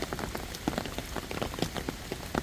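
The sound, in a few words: heavy rain pouring down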